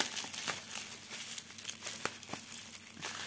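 Sticky tape torn and pulled away from a package while unboxing a stamped cross-stitch kit, with close, continuous crinkling and crackling plus sharp ripping bursts scattered throughout.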